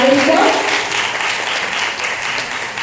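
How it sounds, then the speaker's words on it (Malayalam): A crowd at an honouring ceremony for Sadanam Unnikrishnan in Palakkad gives loud, sustained applause, a dense wash of clapping throughout that stays close and full. "നല്ലൊരു കയ്യടിയോടുകൂടി നമുക്ക് അദ്ദേഹത്തെ ആദരിക്കാം."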